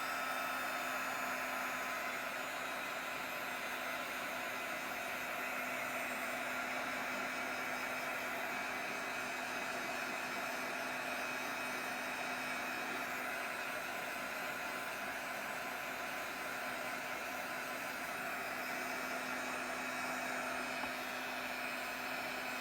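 Hair dryer or heat tool blowing over a mixed media journal page, a steady loud whooshing drone with a constant whine that runs unbroken from start to finish, with no voices.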